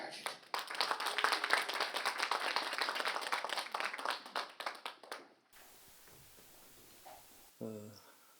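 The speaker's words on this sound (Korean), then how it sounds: "우리 선생님 정민 교수님을 뜨거운 박수로 환영하십시오" An audience at a lecture claps in welcome for a professor, a brisk burst of many hands that stops abruptly after about five seconds, leaving quiet room tone and a brief voice.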